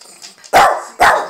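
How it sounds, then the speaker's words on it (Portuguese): A dog barks twice, loud and close, each bark a sharp burst about half a second apart with quieter room sound before them. "Não precisa latir."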